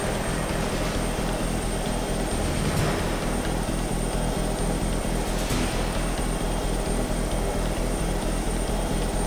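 A plane flies in Just Cause 2 with a steady, loud propeller-engine drone that holds level for the whole stretch, a continuous airborne hum with faint whooshing swells.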